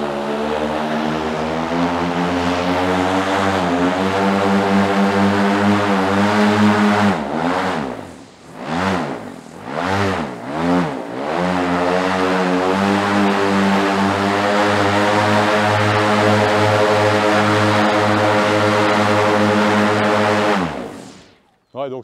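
Electric paramotor propeller run at full throttle, a loud steady whirring drone with harmonic hum, briefly wavering in pitch mid-run before settling and cutting off at the end.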